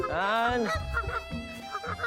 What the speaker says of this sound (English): Feed geese.